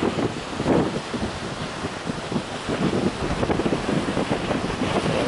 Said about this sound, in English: We've got a big northeast storm going on.